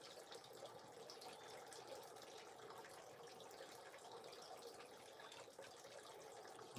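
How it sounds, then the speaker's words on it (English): Distant running water, a faint, continuous, even gush that holds steady without change and plays alone as quiet background. "the running water in the distance"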